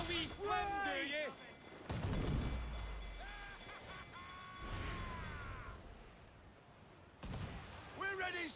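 Ship cannons boom in Assassin's Creed IV: Black Flag, heavy blasts rolling out under shouted crew voices and stretches of music, with a broad explosive burst near the start and others midway.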